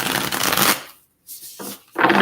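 Tarot cards are shuffled by hand in quick riffling bursts: a long run of rapid card flutter, a brief silence, then two shorter shuffles close by.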